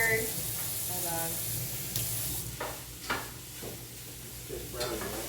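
Meat browns in a frying pan with a low steady sizzle, punctuated by several scraping stirs of a utensil; faint voices murmur in the background.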